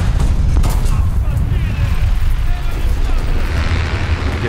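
Tank battle in War Thunder with a T-26E in ground realistic mode, full of dense, booming gunfire and rumbling explosions that fill the whole stretch loudly, with no clear gaps.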